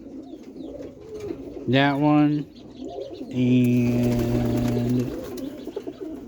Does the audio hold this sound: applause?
no